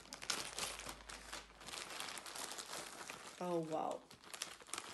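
A crinkling plastic bag rummaged through close up while unboxing a miniature house kit, with rustling crackles throughout and a brief spoken exclamation near the end.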